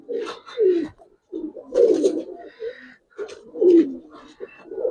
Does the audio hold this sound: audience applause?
no